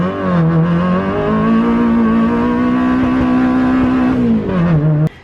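A car pulls hard from first gear, the engine revving up to about 7,000 rpm in one long loud climbing roar, then dropping sharply as the gear changes near the end before cutting off.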